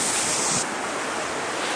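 Ocean surf washes onto a beach at Astoria as the tide comes in, a steady broadband roar with a brief hissing swell at the start, close and continuous with no voices.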